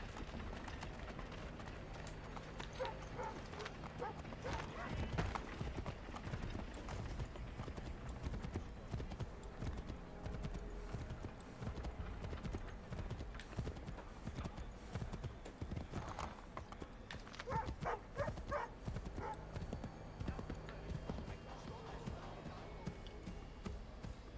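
Rapid, rhythmic hoofbeats of a galloping horse in Assassin's Creed III clatter on and on, fairly quiet, with brief pauses and shifts in pace.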